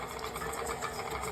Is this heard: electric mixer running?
yes